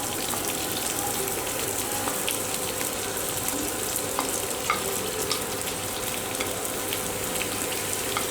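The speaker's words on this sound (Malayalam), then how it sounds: "അരിഞ്ഞു വച്ചിരിക്കുന്ന സവാള ഇട്ട് കൊടുക്കാം" Chopped onion frying in a pan for a coconut-free roasted fish curry, a dense continuous sizzle with faint stirring scrapes, close and steady with no voices.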